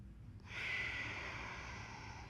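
A single slow breath during a yoga flow, settling in mountain pose: a soft, airy exhale rising after a short pause and holding steady and close for about two seconds, with no talking.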